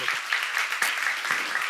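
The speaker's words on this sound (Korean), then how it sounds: "박수 하세요." A church congregation at a seminar service claps in a steady, continuous patter throughout, ending in a sudden louder burst.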